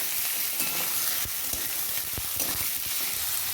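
Beans and mixed vegetables frying together in a pan for vegetarian fried rice, a constant hissing sizzle with a few sharp clacks of a spatula stirring.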